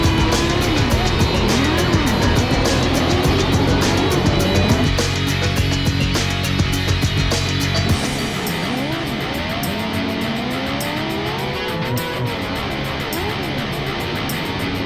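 Race cars on an indoor dirt track in Trenton, New Jersey, howling loudly and continuously as several engines pass close, rising and falling through gear changes with tire squeal, thinning to a lone car farther off.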